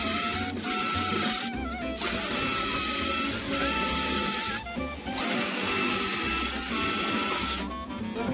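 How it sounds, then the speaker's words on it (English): Power drill boring holes between window laths in a bay window, a loud whining buzz in repeated bursts separated by brief pauses. "I'm just drilling in between the lats where the biggest gap is, rather than actually onto the lat."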